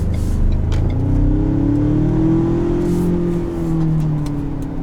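A 2020 Ford Ranger Lariat pickup drives slowly over rocks, with a steady mid-pitched engine drone that rises and falls gently as it crawls over the uneven ground. The sound is close, continuous and has no talking over it.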